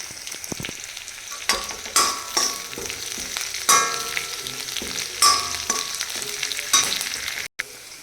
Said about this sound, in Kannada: ಕರಿಬೇವಿನ ಸೊಪ್ಪನ್ನ ಸೇರಿಸ್ಕೊಡ್ತಾ ಇದ್ದೀನಿ ಇದು ಸಹ ಸ್ವಲ್ಪ ಬಾಡಲಿ